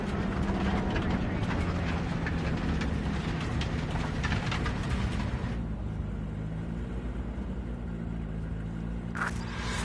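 A train in the Cyberpunk game rumbles along steadily, a loud continuous low roar with clattering and hiss that eases slightly midway, and a brief sharp burst near the end.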